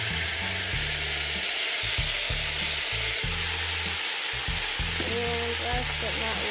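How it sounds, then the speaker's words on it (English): Black bean tomato chili with orange juice sizzles steadily in a hot pot while it is stirred, giving continuous frying crackle and a few scraping stir sounds, with a low rhythmic hum underneath. "go ahead and give that a good stir"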